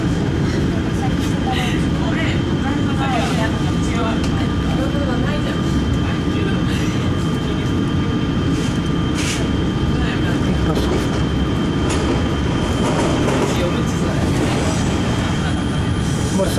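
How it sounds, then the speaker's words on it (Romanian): Steady rumble and rattle from inside a moving double-decker train, with continuous rolling noise and faint creaks, while people talk nearby throughout. "Suntem într-un tren de etaj."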